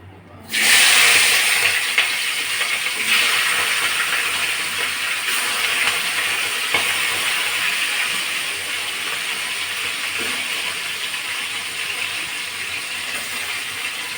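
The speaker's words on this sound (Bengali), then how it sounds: "আমি এখন মাছের মাথাটা ভালো করে ভেজে নেব" Fish head pieces fry in hot oil in a kadai, a steady loud sizzling hiss starting abruptly and continuing throughout without speech.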